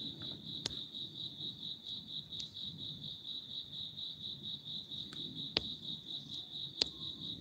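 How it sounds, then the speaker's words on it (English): Crickets chirp in a steady, continuous high trill, with a few faint clicks over a quiet outdoor background. "I love sitting here listening to the crickets while I'm meditating."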